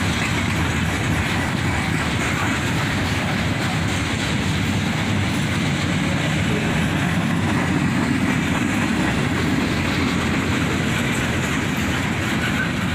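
A CSX freight train of boxcars and slab-loaded bulkhead flat cars rolls past close by, with a steady loud rumble and rhythmic clickety-clack of wheels over rail joints and no talking.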